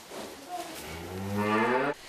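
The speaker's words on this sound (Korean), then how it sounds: "지금 막 송아지가 태어났다는데" A newborn calf on a farm, still wet from birth, gives a single rising moo about two seconds long, close and clear with no talking.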